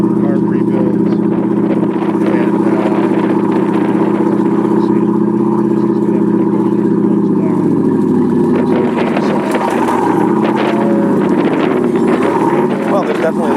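A 1988 Bayliner Avanti 3450 cruiser, its carburetors due for a rebuild, has its engines running with a steady loud rumbling drone that shifts and roughens partway through as revs change, with wind buffeting the microphone.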